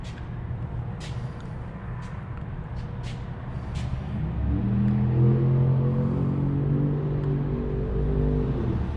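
A 1971 MG MGB GT drives along with a steady engine drone that rises and swells into a firmer, louder tone about halfway through, over continuous road rumble. There are a few faint clicks early on and no talking.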